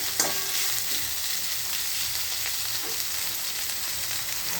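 Bitter gourd slices seasoned with salt and turmeric fry in a pan, giving a steady, loud sizzle that runs throughout, with a few faint clinks and stirring sounds.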